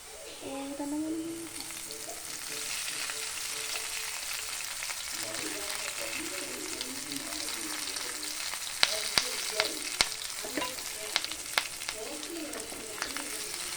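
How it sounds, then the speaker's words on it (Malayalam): Chicken frying in a pan with curry leaves and mint added, a steady close sizzle with scraping stir clatter and sharp pops toward the end, faint voice murmur beneath. "അപ്പോൾ ഗൈസ് നമ്മുടെ ചിക്കൻ ഏകദേശം പൊരിച്ച് വന്നിട്ടുണ്ട്. ഇനി നമ്മൾ അതിലോട്ട് കറിവേപ്പിലയും പുതിനച്ചപ്പും കൂടി ഇടണം."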